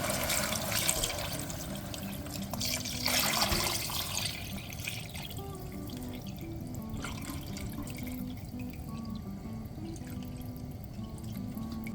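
Stock or water runs steadily into a pot of smoked chicken and vegetable soup, a continuous splashing pour that holds at an even level throughout, with no voices.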